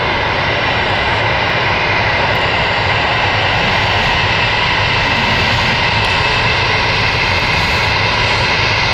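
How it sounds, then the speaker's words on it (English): A Ryanair jet airliner turning on the ground at Stansted Airport gives off a loud, steady engine roar and whine that holds evenly throughout, with no talking. "Here is the Ryanair, which is turning"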